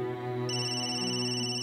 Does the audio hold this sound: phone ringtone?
yes